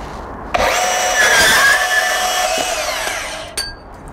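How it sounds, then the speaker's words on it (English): A DeWalt 20V Max DCS374P2 cordless deep-cut band saw makes a square cut through EMT conduit: a loud, close whine starts abruptly, holds steady for about three seconds, then cuts off with a brief clank. "show you how to do a square cut with a bandsaw on EMT"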